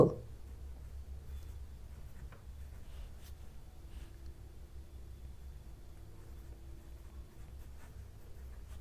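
Pen or marker scratching out a compound-interest math formula, a faint, soft scribble over a low steady background hum.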